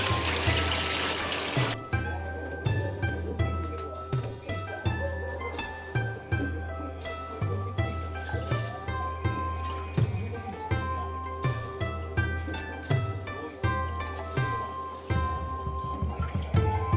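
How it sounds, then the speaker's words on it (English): Raw rice is washed and rinsed in water with repeated rhythmic swishing and scrubbing strokes about once a second, heard under tuneful background music. "describes washing, rinsing the rice few times before cooking it"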